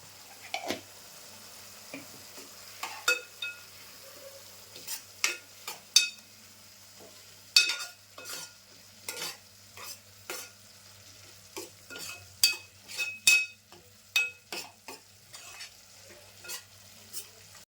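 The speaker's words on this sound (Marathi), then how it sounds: "हे 2 मिनटं असं मी परतून घेतलं आहे" A spiced roasted-brinjal bharit mixture with garam masala and Malvani masala is sautéed in a pan, making sparse, irregular spatula scrapes and taps over a quiet, faint sizzle.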